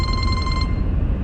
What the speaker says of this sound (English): this is somebody calling me